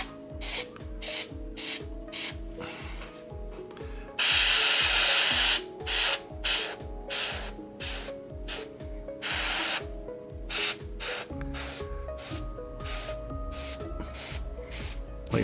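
Airbrush spraying paint onto a Kingdom Death Dragon King miniature in short directional bursts, hissing on and off in an irregular rhythm with one longer spray, close-up and fairly quiet against clicking background tones.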